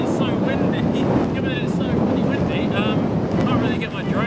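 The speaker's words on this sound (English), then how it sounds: "Given that it's so windy," Strong wind buffets the microphone on an exposed grassy mountain, a steady low roar with gusty rumble filling the whole stretch, loud and close, with a faint voice underneath.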